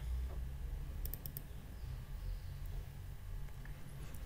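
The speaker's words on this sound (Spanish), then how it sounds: "Cuando hago doble clic sobre ese botón" Two quick mouse clicks land close together, a double click on an on-screen button, crisp and near against a faint low background hum.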